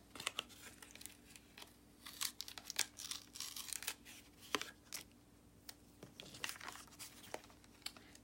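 Paper ripped from the back of a handmade greeting card, with soft crinkling and a series of quick tearing bursts and crackles, faint and close.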